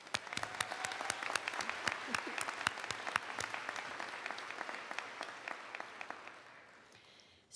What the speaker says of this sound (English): Please join me in giving a round of applause to these two amazing ladies.